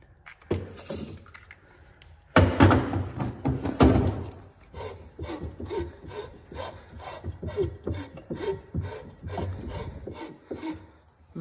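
The engine of a 1990 Yamaha Waverunner jet ski, poorly lubricated, is turned over slowly. It gives a dry, rhythmic rasping and scraping, repeated grinding strokes that start with a loud burst and then continue steadily and close.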